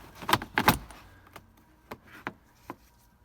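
Plastic A-pillar trim on a 2017 Honda Accord being worked off its clip, producing a couple of sharp close clicks and rattles followed by several fainter scattered ticks and taps.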